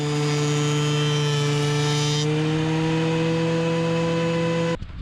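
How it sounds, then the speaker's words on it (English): A power planer feeds wooden pieces through with a loud, steady whine that carries strong tonal harmonics, then cuts off abruptly near the end. "we're going to send those pieces through the planer to clean up the wood and make the surface"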